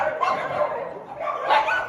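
Dog barking on a staircase, greeting other dogs upstairs: two loud, close barks or yips in bursts near the start and again near the end, with quieter whining in between and no talk.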